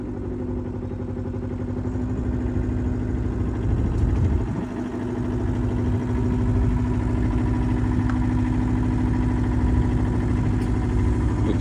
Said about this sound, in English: hold it until you hear a change in the engine